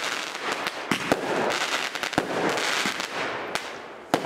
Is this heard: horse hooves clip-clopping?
no